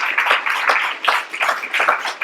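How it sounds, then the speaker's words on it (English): A seated audience at an evening event honoring a television pioneer breaks into steady, dense clapping that carries on evenly throughout, full and fairly close, with no voices on top. "I think that calls for applause."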